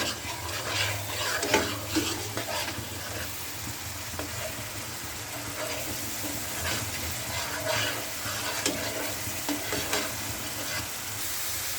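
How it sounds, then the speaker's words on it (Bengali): Spices fry in oil for a surma fish curry, a steady sizzle under repeated close stirring scrapes of a spoon against the pan. "এবার দিয়ে দেবো আমি মশলা দিয়ে তেলের ভিতরে ভালো করে কষিয়ে নেব।"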